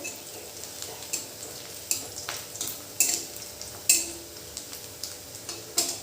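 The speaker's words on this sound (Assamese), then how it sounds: "পিঁয়াজখিনি ৰঙচুৱা হোৱালৈ ভাজি থাকিম।" Onions fry in a pan until reddish while being stirred, a soft steady sizzle broken by sharp, irregular scrapes and clicks of the spatula against the pan.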